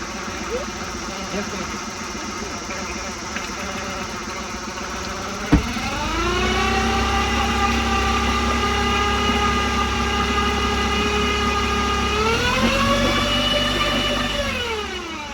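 A Mercury 9.9hp outboard motor idles steadily, then gets a burst of throttle and revs up to a louder, sustained higher pitch before easing back down near the end. A sharp knock sounds just before the rev.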